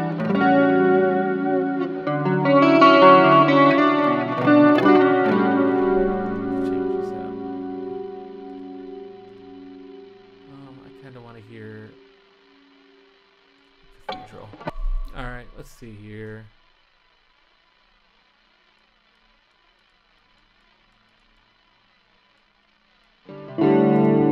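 Electric guitar chords through the reverb block of an Axe-Fx III ring out with a long, washy reverb tail that fades into silence, followed by brief picked notes and another strum at the end.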